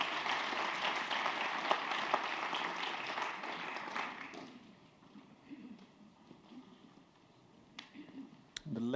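Spectators at a World Team Trophy men's darts match between France and the Rest of the World applaud the players for about four seconds, then the clapping drops away to quiet murmuring and scattered sounds.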